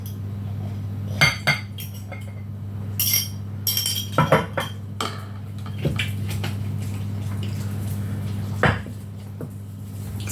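A utensil stirs ingredients for a Tex-Mex dish, making sharp, irregular clinks against a bowl or pot over a steady low hum, with no voices.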